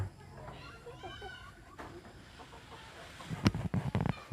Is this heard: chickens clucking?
yes